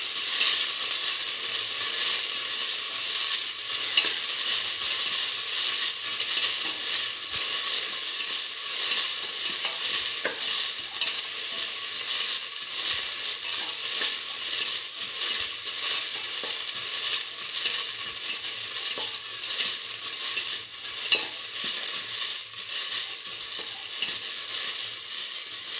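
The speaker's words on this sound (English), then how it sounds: "Keep on sauteing until the onions use pinkish color" Onions and garlic sauté in a pan with salt, giving a continuous, fairly loud sizzling hiss that stays even throughout, with faint occasional stirring.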